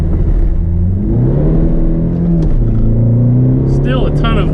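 A turbocharged TDI diesel car accelerates hard with heavy wheel spin, its engine note rising and dipping through gear changes, loud and close throughout, with a brief high squeal near the end.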